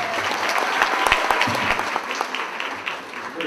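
Audience applause welcoming Rick Scott at a candidates forum, a steady wash of clapping from a crowd that holds at an even level throughout, with no voices over it.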